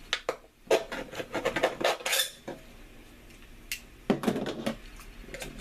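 Metal can being cut by hand while making a homemade gas mask, heard as a run of sharp, close scraping and clinking strokes, then a pause before a second short burst of metallic cuts.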